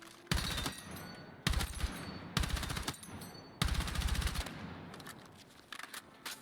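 Battlefield 6 video game gunfire: four loud sustained automatic bursts of rapid shots fired from the hip, separated by short pauses, with a final burst tapering off at the end.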